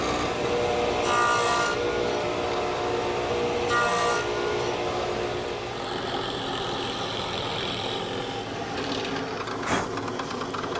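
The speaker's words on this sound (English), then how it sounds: "Here I'm starting to form an open mortise, and that'll receive a cross piece at the center of the table." An open mortise is cut in wood for a table's center cross piece, with continuous rasping, sawing strokes and rubbing at a steady rhythm, close and fairly loud, with a few brighter scraping bursts and no talk.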